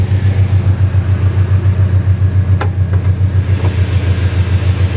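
A Silverado with a V6-to-V8 swap, long-tube headers and dual exhaust idles close by, giving off a steady, deep, lumpy burble that stays even throughout.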